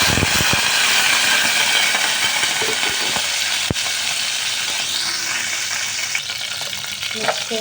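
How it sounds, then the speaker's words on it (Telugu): Cumin and mustard seeds frying in a little hot oil, making a loud close sizzle with sharp crackles and pops and occasional stirring clatter, no voices. "చిటికెడు ఆయిలు, జీలకర్ర, తిరగమాత గింజలు వేసాను."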